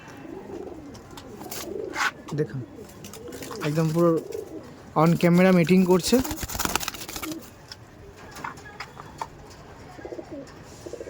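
Pigeons in a loft coo close by in several rounds of throaty, rolling calls, with someone speaking Bengali between and over them.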